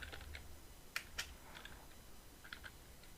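Typing a network group command on a computer keyboard during an ethical hacking demonstration: a few quiet, separate key clicks spaced out, with two sharper taps near the start and a short pair toward the end, with no voices.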